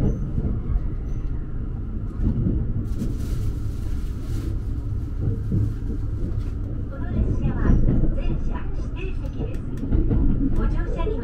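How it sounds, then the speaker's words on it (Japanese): A long freight train rumbles past near Amagasaki, Japan, with heavy low droning and clattering wheels, steady throughout, while a voice talks over it. "1日ぶりの貨物列車、長い編成を見るのも久々です。"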